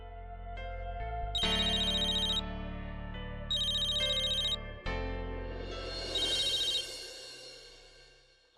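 A phone ringtone rings alone in repeated melodic bursts with sustained tonal notes, loud and close, the tune cycling several times before stopping.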